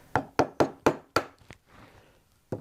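A chisel knocks out dovetail waste from a wooden drawer part: five sharp, evenly spaced mallet-driven raps, then a brief scrape and one last knock, close and dry with no voices.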